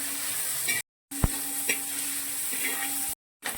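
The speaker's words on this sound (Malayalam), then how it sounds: "ഉപ്പ് ചേർത്ത് ഉള്ളി വഴണ്ട് വന്നു കഴിയുമ്പോൾ നമ്മൾ പച്ചമുളകും കൂടി ഇട്ട് കൊടുക്കുവാണേ" Onions and green chilies sautéing in a pan for a pearlspot fish mappas, a steady close sizzle with a few light scrapes of stirring, broken by two brief silent gaps.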